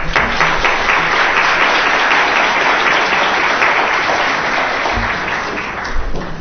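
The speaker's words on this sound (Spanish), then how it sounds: "a quien lo recibimos con cálidos aplausos" Steady, dense applause from an audience at a law faculty conference welcoming the dean, many hands clapping continuously at even loudness for several seconds and fading slightly at the end.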